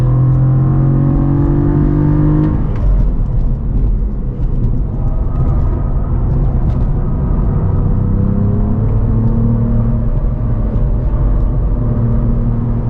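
Engine of a 2023 Cadillac CT4-V Blackwing with manual gearbox revving hard on a race track, loud sustained drone that climbs in pitch, drops at a shift, then climbs again under heavy throttle.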